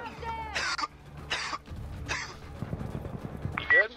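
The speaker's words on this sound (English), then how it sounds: "You gonna push to talk your cough?" Several coughs come over voice chat in an Insurgency Sandstorm game stream, three harsh bursts in a row followed by a rougher cough, with faint talking between them.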